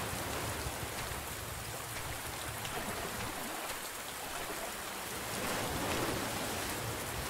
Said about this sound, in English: Please rain like a million minutes more.